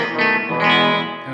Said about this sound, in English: A different reverb than the Surfy Bear, you know, it's kind of more of like a room or something.